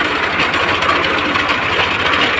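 A tractor-driven rotavator machine for cutting castor and cotton runs with a steady, close engine drone and mechanical vibration, holding an even level throughout with no pauses.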